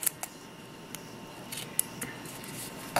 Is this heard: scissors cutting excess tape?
yes